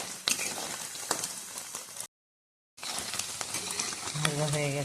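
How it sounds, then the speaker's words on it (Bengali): Paneer frying in hot mustard oil gives a steady, crackling sizzle with sharp pops and spatters, cut by a brief silent gap before the frying noise resumes. "আর একটু ভেজে নামিয়ে নেব।"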